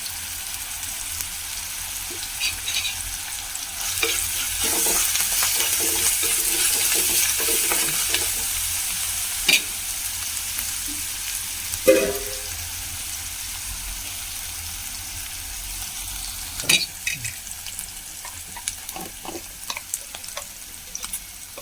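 Fresh curry leaves sizzling in hot oil in a pan for a fish curry, a steady frying hiss throughout, broken by scattered clinks and scrapes of stirring, with no talk.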